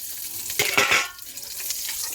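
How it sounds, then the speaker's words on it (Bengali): Green chillies dropped into hot oil with nigella seeds in a home kitchen, after fish has been fried, give a short, loud burst of crackling sizzle that fades back into a low background hiss. "লঙ্কা দিয়েছি তো তেলের মধ্যে, এই জন্য পাটছে"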